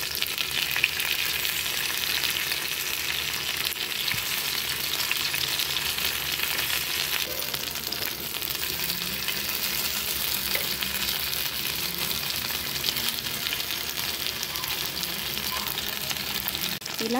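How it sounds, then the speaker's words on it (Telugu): Fish pieces fry slowly in a shallow layer of oil in a pan, making a steady, close sizzle with soft crackles and an occasional stirring scrape, no voices. "ఒకసారి ఒకవైపు ఫ్రై అయ్యాక ఇంకోవైపు కూడా నిదానంగా ఫ్రై చేసుకోండి"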